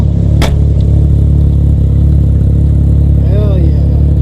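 An FC car's engine idles with a loud, steady rumble throughout, joined by a sharp click near the start and a brief whistling sound toward the end.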